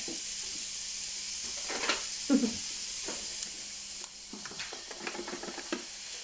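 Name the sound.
lardons frying in a pan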